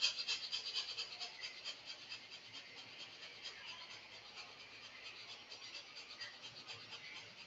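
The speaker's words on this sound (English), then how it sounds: "pay attention to your nose breathing, or the air going in and out of your nose" Rapid nose breathing exercise: fast, rhythmic, breathy huffs of air through the nose repeat steadily at close range, strongest at the start and continuing evenly.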